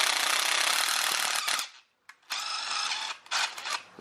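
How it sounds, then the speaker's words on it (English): A bolt is tightened into a thread-cutting die with a loud, rattling power tool. Two harsh bursts come close up, split by a brief silence, the second ending in short choppy spurts. "So I'm gonna go ahead and tighten this, make sure I have the right die for the bolt I have on there."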